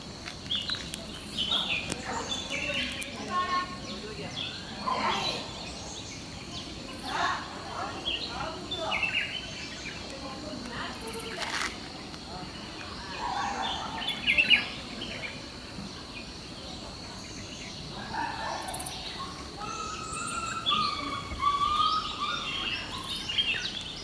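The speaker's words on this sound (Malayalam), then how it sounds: "ഞാൻ നേരത്തെ പറഞ്ഞ ബുൾബുൾ എന്ന് പറഞ്ഞ കിളിയില്ലേ, ആ കിളീൻ്റെ സൗണ്ട് ഞാൻ ഇപ്പോൾ കേൾപ്പിച്ചത്." Bulbul calls near a house, appearing as scattered short chirps and whistled notes against steady insect and cricket buzz in the background, with a few louder calls standing out along the way.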